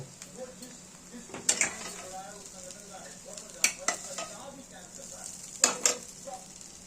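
Potatoes being stirred with fried spices in a hot pan for a raw mango cutlet, a steady soft sizzle broken by several sharp scraping knocks of the spoon against the pan.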